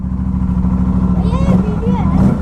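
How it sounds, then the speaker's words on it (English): Close, loud idle from a motorcycle with a GPR Ghost full exhaust and its dB killer fitted, a steady rhythmic thump running continuously while people talk over it. "So this was the raw exhaust sound with the DB killer."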